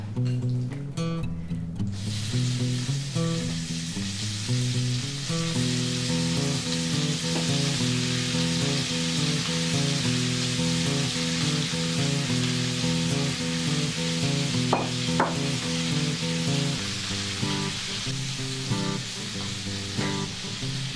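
Shrimp sizzle steadily in a pan of bacon fat and butter, a loud continuous frying hiss lasting throughout with a low steady hum beneath and occasional light stirring scrapes, no talking.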